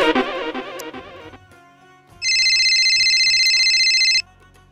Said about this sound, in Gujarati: ફોન ઉપાડ, ફોન ઉપાડી